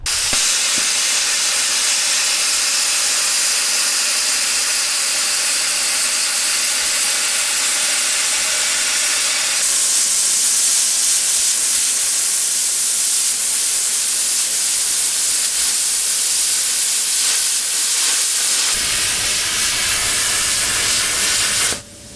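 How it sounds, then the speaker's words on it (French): Plasma cutter slicing through 4 mm steel plate in a forge workshop, a loud continuous hissing rush of gas and arc running nearly the whole time, with a brief change in tone partway through before it cuts off abruptly. "On va couper avec un découpeur plasma."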